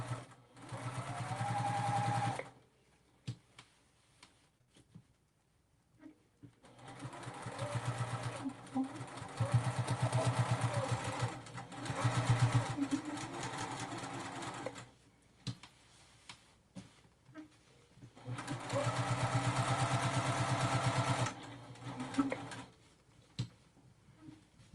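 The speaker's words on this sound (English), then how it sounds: "I'm sewing on the line I stitched" A sewing machine stitching a pouch along a marked line, running in three steady bursts of rapid mechanical ticking with short pauses and small clicks between runs.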